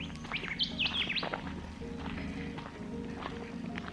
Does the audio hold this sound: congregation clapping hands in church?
no